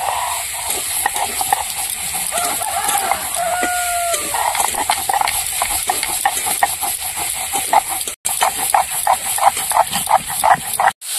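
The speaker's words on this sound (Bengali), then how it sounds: "জিরে আর লঙ্কা ভাজা আমি এবার বেটে নেব।" Fried cumin seeds and chillies are ground into a paste with repeated rhythmic scraping strokes that grow quicker and more regular toward the end, over a faint background hiss.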